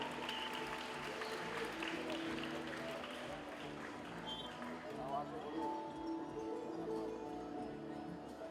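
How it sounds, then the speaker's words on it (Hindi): Applause from an audience at a children's event, a steady wash of clapping blended with crowd chatter and voices running throughout. "तालियां हो जाएंगे एक बार।"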